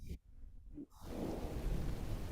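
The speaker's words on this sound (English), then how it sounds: "Can you hear the thunder?" Thunder rumbles low and distant over steady rain falling outside at night, a continuous wash of drops with a brief softer lull early on.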